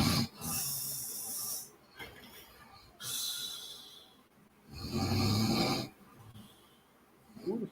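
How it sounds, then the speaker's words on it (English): Heavy snoring over a call: loud rasping, hissing inhales repeated in slow rhythm, each lasting about a second or more with quieter gaps between. "Who the fuck is snoring like that?"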